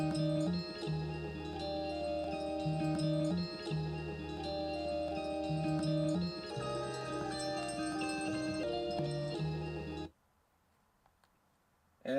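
Chopped-sample beat loop with a turnaround, looping melodic harmonic layers over a steady low end for about ten seconds, loud and continuous, then cutting to near silence with a faint tail.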